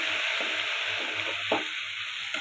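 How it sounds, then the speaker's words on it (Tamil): Onion, garlic and tomato sauté in oil for a Tamil sundakkai vathal kuzhambu, with a constant loud hiss of frying broken by several distinct spatula scrapes against the pan. "ஒரு தக்காளி ஆட் பண்ணியிருக்கேன் இதையும் நல்லா வணக்கிக்கலாம்"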